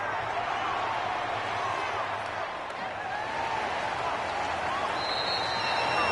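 Steady crowd applause and cheering in an American football video game fills the whole stretch, a dense unbroken roar of clapping that holds at an even level throughout.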